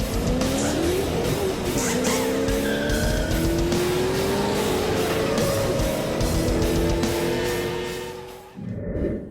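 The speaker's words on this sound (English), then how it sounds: "I'm going to take this very large 8-passenger hybrid Toyota SUV out for a spin" A 2024 Toyota Grand Highlander Hybrid XLE SUV driving, a loud continuous engine drone with rising and falling pitch that fades toward the end, no talking.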